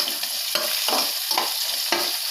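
Cashews and raisins fry in ghee in a pan over low heat, a steady close sizzle broken by stirring scrapes roughly every half second, with no talking.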